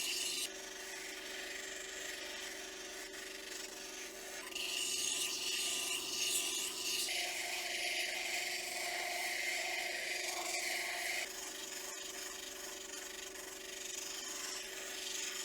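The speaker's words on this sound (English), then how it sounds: "we've just switched out to our 180 grit, and we're ready to start smoothing this gemstone" A gemstone cabochon is rocked and smoothed against a 180 grit pad, giving a continuous close wet rasping scrub that swells and eases in broad sections, with no talking.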